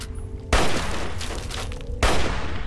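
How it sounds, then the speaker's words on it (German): Hunting rifle fire in the video game Fallout 3, two loud sharp shots, each followed by a long rumbling decay, heard close and with no talking. "Drei Schuss mit der Jagdflinte."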